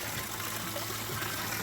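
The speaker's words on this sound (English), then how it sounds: "Right by the beautiful waterfall." A waterfall near Wengen in the Swiss Alps pours as a steady broadband rush of water, an even, continuous roar with a faint trickling texture and no voices.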